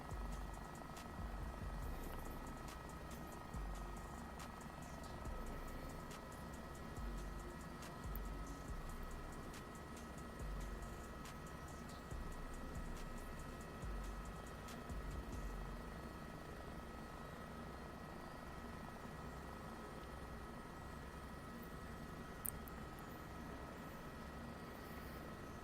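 A helicopter in a video game drones steadily and faintly, with a continuous rotor and engine hum and no pauses.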